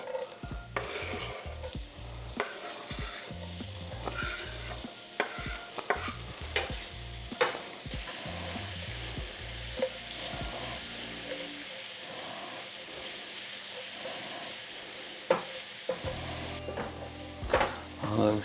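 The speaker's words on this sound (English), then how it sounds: "Now we touch more oil, goes back into the pan. In goes our onions." Onions hit hot oil in a pan for shrimp pasta, producing a continuous loud sizzle and hiss with frequent stirring clatter and scraping throughout.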